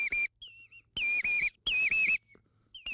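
A man whistles imitations of birdsong to lure birds in the Baie de Somme, producing three clear, piercing bursts of trilling, warbling whistles separated by short pauses, loud and close.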